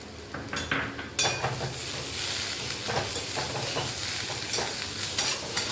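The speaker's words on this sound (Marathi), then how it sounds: "छानपैकी ढवळून घेऊया 2 ते 3 मिनिटं स्लो गॅसवर" Dried shrimp (jawla) frying in a pan on low heat with salt and coriander gives off a steady crackling sizzle, with repeated close scrapes and clatters of a spoon stirring against the pan.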